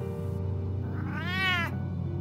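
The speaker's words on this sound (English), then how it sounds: "Ugly ass cat." A cat in Batman: The Telltale Series, the video game, lets out a single drawn-out, rising-then-falling meow over a steady low background hum.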